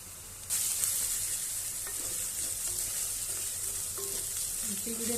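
Ginger-garlic paste hits hot oil for a chicken curry and bursts into a loud, sudden sizzle that stays steady and close. A few light scrapes of a spoon stir the pan.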